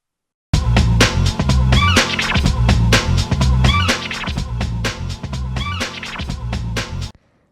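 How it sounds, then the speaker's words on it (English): A 90s hip hop sample loop sped up to 125 BPM, loud and steady with punchy kicks, snappy hits and a busy looping texture, starting after a brief silence and cutting off cleanly near the end. "And what you do is you speed it up to 125 BPM, so it sounds like this."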